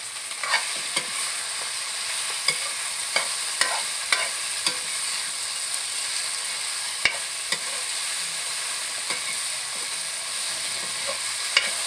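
Potato pieces are stirred into chicken frying in a village-style black pepper chicken gravy in a pan, giving a steady soft sizzle broken by irregular sharp scrapes and clinks of the spoon against the pan, close by.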